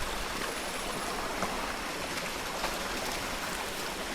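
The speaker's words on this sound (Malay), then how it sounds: "Lalu lagi anak sungai." A small jungle stream on a hiking trail up Gunung Berembun flows steadily nearby, a soft, even rushing and trickling with no talk over it.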